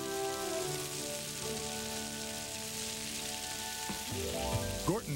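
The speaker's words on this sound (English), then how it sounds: "The first whole fish fillets that you sizzle up right in your skillet." Whole fish fillets fry in a skillet: a steady crackling sizzle with a bed of musical tones layered over it, the frying noise continuous and fairly loud throughout.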